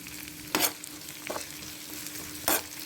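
Sliced onion sautéing with ginger-garlic paste in a pan: a low steady sizzle broken by three short scraping stirs, close by and without voices.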